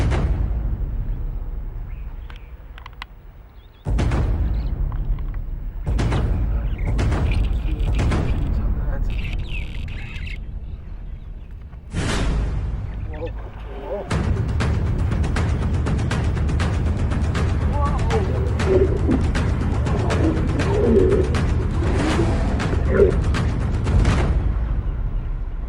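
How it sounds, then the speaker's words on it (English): Hippos fight in the African bush with loud, booming splashes and crashes, then a sustained roaring uproar, close and heavy, with bursts of noise throughout. "You can hear the uproar of the other hippos as the epic fight settles down."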